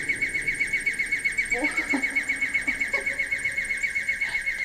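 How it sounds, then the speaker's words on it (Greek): Ancient Greek water-driven alarm clock of Plato giving a bird-like call, a steady piping whistle with rapid warbling pulses running throughout over a low rushing background, with faint voices underneath. "ξύπνησε πάρα πολύ ωραία ο Πλάτωνας με τον ήχο ενός πουλιού"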